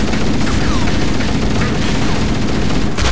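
Halo Anniversary firefight with a grenade explosion and rapid gunfire, dense loud bursts of shots and booms packed together without pause, played close and continuous.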